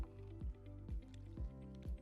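Water being added to a cement mixer gives a steady low churning rumble broken by four regular wet squelching slaps about half a second apart, heard close.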